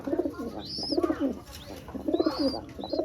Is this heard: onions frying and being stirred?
no